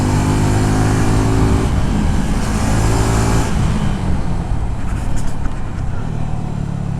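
Suzuki Gixxer 250 naked motorcycle, 2024 edition, downshifting on the road, its engine note dropping and shifting through a loud, rough rumble mixed with heavy wind rush at close range.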